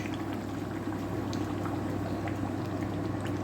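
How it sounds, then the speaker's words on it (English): Steady bubbling and simmering from a pan of homemade base curry sauce as a little more water goes in, a dense continuous liquid wash with a low hum underneath, close and unbroken throughout. "We're going to cover that with just a little drop more water"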